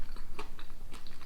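Crunchy bites and chewing of a cocoa-dusted snack with caramelized popcorn bits, a few sharp crisp crunches in an irregular rhythm, close and fairly loud.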